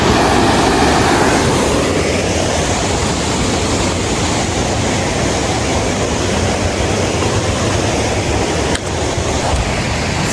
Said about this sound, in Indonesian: yang bikin suara gemuruh itu berasal dari air terjun ini.